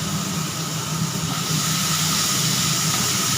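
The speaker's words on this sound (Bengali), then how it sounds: "চিংড়ি মাছটা দিয়ে ভালো করে নাড়াচাড়া করে নিই" Shrimp frying and being stirred in a pan for a Bengali Malabar spinach and shrimp dish gives a loud, steady, continuous hiss of sizzling oil with no pauses, close by.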